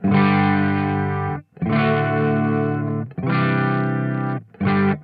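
A Fano electric guitar played clean through an MG6 amplifier, four sustained strummed chords ringing out in turn with brief gaps between them, close and full, with no voices.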